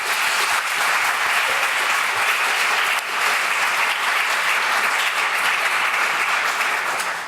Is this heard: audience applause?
yes